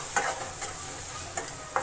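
Spices and garam masala frying in a pan for a white peas curry: a steady sizzle with several soft scraping strokes as they are stirred.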